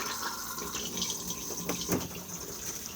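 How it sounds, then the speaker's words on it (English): Cassette toilet flushing in a 2021 Auto-Sleeper Broadway FB motorhome, a steady close rush of running water like a tap filling a basin, continuous for a few seconds with a brief stronger surge near the end. "Push to flush just here."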